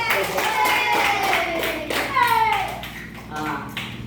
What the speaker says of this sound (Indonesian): Tapi harusnya tepuk tangan di sini nih